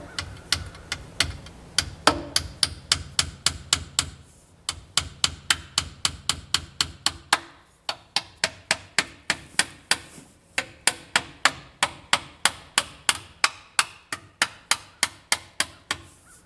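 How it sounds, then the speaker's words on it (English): A hammer drives nails through thin sheet metal strips on an outside wall during Versetta Stone siding work. The sharp metallic strikes come in a steady, rapid series of dozens, close and loud, broken by brief pauses. "I'm just nailing through the little sheet metal there."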